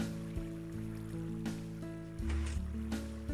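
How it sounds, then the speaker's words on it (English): Flowing water in the Minecraft video game, rushing and receding steadily under layered tonal game music, moderately loud with a brief surge near the end. "So we'll just wait for the water to recede here."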